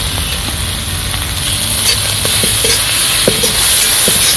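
Masala with mutton liver frying in oil in a home kitchen pan, a soft continuous sizzle with a few faint clicks and stirring scrapes, no talking.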